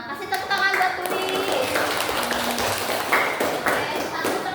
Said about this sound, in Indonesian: kasih tepuk tangan buat Tuli.